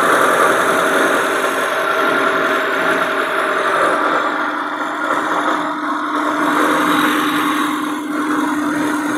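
A 2007 Maruti Suzuki Zen Estilo car engine idles with the bonnet open, a steady, close, even hum and rumble that holds throughout with no revving.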